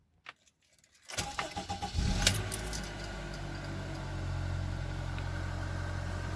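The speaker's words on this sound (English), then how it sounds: "we'll get the car started, leave it running for a few seconds" A car engine cranks and catches after a quiet second, then settles into a steady, fairly loud idle that runs on alone during a DIY engine oil and filter change.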